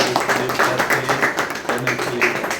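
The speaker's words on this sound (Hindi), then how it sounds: "तो जोरदार ताली अपने लिए" Loud, close applause from a live audience at a comedy-style talk show, with dense, rhythmic clapping filling the entire moment.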